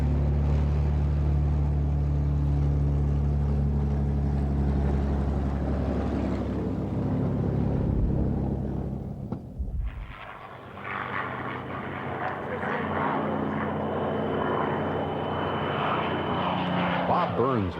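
A P-51 Mustang's piston engine drones at the 1988 Wings of Eagles air show, a loud steady propeller roar that drops away and returns as a distant hum while an announcer talks.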